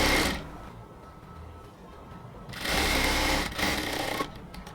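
A sewing machine runs close by, stitching a blouse from top to bottom in a steady whirring burst, pausing briefly, then running again.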